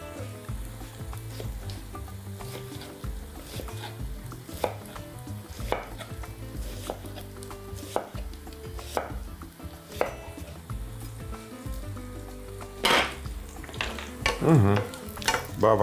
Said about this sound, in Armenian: նույն տապակի մեջ տապակենք կարմիր սոխը